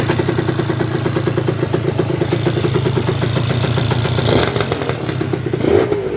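A small Gilera Runner scooter engine putters at a fast, steady idle, loud and close, with a couple of brief throttle blips and a light rattling clatter.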